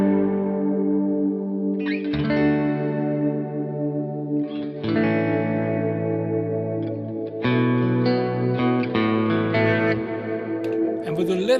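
Electric guitar played through a Kemper Profiler with tremolo and reverb switched off, ringing out loud sustained chords and notes in a few phrases, with a dry, slightly driven tone.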